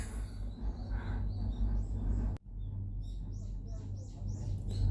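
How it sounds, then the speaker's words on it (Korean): Small birds chirp in quick, repeated high notes heard from inside a cable car running over a harbour. The chirps come moderately close and sit over a steady low rumble of cabin and wind noise. "아니 어떻게 이렇게 새소리가 계속 나지?"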